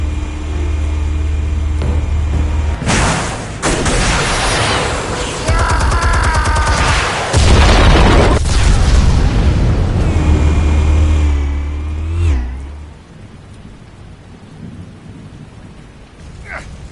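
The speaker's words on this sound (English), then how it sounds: "Explosives armed. Fire when ready." Explosives detonate in Batman: The Telltale Series, a heavy, sustained rumbling blast with crackling debris and booming layers that roll on for several seconds before dropping abruptly to a quieter ambient tail.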